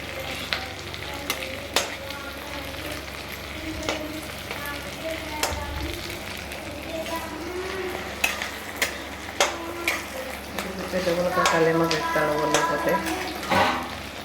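Tomatoes, chillies and ginger paste are stirred in a sizzling pan, a spoon scraping and clacking at irregular intervals over a continuous fry sizzle, close up, ending in a louder burst of stirring.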